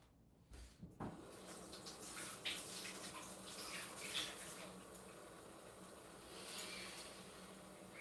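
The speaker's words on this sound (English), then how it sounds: "I guess I'll wash the mushrooms off real quick." Tap water runs steadily over mushrooms being washed at a kitchen sink, a continuous splashing hiss that starts after a brief clunk and keeps going, fairly faint.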